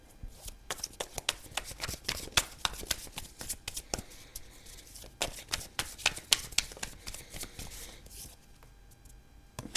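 Tarot cards are shuffled again, a run of quick, close papery riffles and flicks in uneven bursts with short gaps between them.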